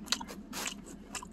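A bite into a Wendy's meal with cheese gives a couple of soft, close crunchy bites followed by quiet chewing, with no talking.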